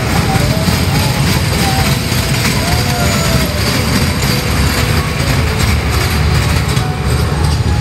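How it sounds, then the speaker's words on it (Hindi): A dragon train amusement ride runs at a fair in Dombivli, giving a continuous loud rumbling and rattling wash of machinery noise that carries throughout without any break. "समोरून येते ड्रॅगन ट्रेन. आत्ता जस्ट चालू झालेली आहे."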